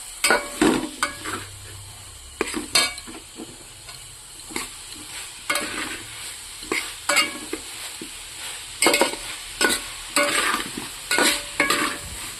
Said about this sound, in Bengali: তো মশলাটা আমার মোটামুটি কষা হয়ে গেছে।